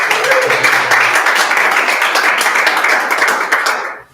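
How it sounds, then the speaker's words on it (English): Audience applause at a public planning commission meeting, a dense continuous wash of many hands clapping at close range that fades out at the end. "And I ask you, please don't applaud"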